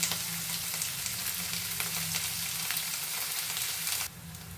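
Onions frying in oil for a chitranna gojju, a close, steady crackling sizzle that drops abruptly quieter near the end, with no talking.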